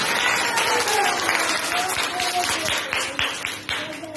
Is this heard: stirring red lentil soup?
no